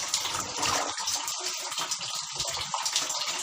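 Tap water gushes continuously into a tub or bucket at home for soaking and washing clothes, including a new yellow saree, with a loud, splashing flow throughout and no talking.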